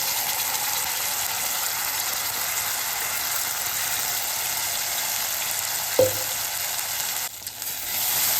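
Cashew paste sautés in hot oil for a pulao, giving a dense, steady sizzling hiss throughout, with a brief tap near the end and no talk.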